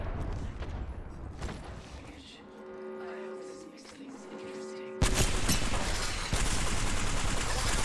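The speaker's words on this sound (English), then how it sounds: "I shoot my L-Star and it's just invisible" An L-Star energy gun in Apex Legends 3v3 Arenas fires a sustained, dense burst, loud and close, cutting in abruptly after a quieter stretch of tonal game sounds.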